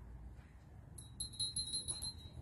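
A vintage made-in-Japan Toby-style bell with a safety pin fitted as its clapper, ringing in a few light, high, tinkling strokes over a quiet room hum, close and fairly faint, no voices.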